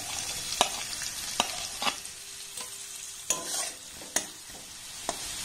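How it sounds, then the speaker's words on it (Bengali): Chopped onion and green chilies fry in a pan, a soft steady sizzle broken by sharp, intermittent clacks of a spatula stirring, nearby and fairly quiet, with no speech. "এবার পেঁয়াজটাকে প্রথমে একটু নাড়াচাড়া করে ভেজে নেব।"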